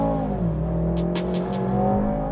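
The twin-turbo 4.4-litre V8 of a BMW M6 Competition Package drones close up under load with a steady, layered engine tone. Pitch shifts slightly as it runs, with faint clicks and ticks scattered on top.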